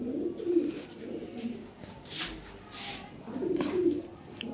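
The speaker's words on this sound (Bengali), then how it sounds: "বিশাল সাইজের কবুতর, একদম ব্লাড লাইনের কবুতর ভাই এগুলো" Large fancy pigeons cooing nearby, with repeated soft throaty coos in a rolling rhythm and some faint background noise.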